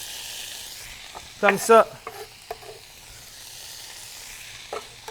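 Onion and celery sizzle and hiss in a hot pan while being stirred, a steady frying crackle with brief louder scraping bursts and a short spoken phrase over it.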